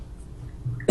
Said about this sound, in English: I thought I wouldn't cough this whole interview, but I guess not.